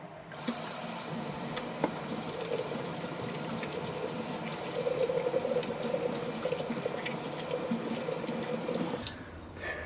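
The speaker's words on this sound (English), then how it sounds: "run your hands underwater for 2 minutes under warm water to get the blood flowing" Warm water runs steadily from a bathroom tap as hands are washed beneath it, a continuous close splashing rush that stops abruptly near the end, with no talking.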